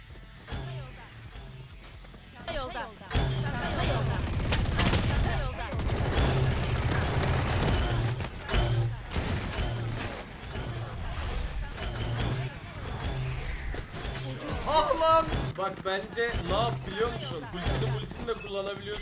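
Bursts of Odin machine gun fire in the Valorant video game, rapid sustained volleys starting loudly and tapering into scattered shots, with people talking over the gunfire.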